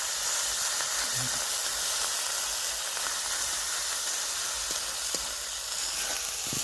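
Garlic paste and cashew paste fry in a pan for an egg curry, giving a steady close sizzle and hiss with faint stirring throughout and no talk over it.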